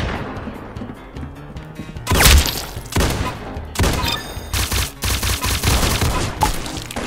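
Shotguns fire in Roblox Arsenal in loud, punchy blasts that come in quick clusters, some close together and some spaced apart, over a muffled game background.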